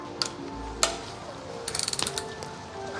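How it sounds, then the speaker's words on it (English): A torque wrench clicks and ratchets while tightening bolts during an E46 engine rebuild, with a few sharp single clicks followed by a quick run of close ratchet ticks, up close in a quiet room. "Something about torquing bolts is very relaxing and nerve-wracking at the exact same time"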